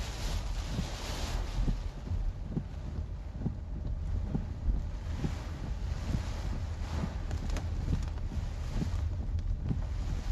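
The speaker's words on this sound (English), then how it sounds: "It gets way windier when you go that way." Strong wind during Hurricane Melissa in Jamaica, a constant low buffeting roar that batters the microphone in rough gusts, loud and unbroken with no talk.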